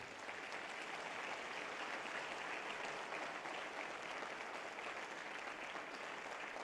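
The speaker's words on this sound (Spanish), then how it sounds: "Den un aplauso a la palabra de Dios." Steady, dense applause from a church congregation during a Spanish-language sermon continues evenly throughout, a constant wash of many hands clapping heard at moderate distance with no voices over it.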